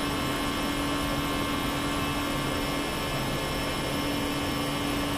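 JAR Airbus A320 jet climbing after takeoff from John Wayne Airport in the flight simulator X-Plane, a steady broad engine roar with a faint tonal whine, constant and unbroken, with no voices.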